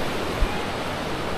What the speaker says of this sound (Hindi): और नदी की जो मधुर आवाज़ है वो आपको मिलेगी।